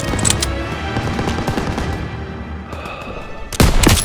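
Dense rifle and machine-gun fire rattles through a Call of Duty: WWII battle against German forces, with rapid overlapping shots, booming impacts and a louder close burst near the end, while soldiers shout orders over the din.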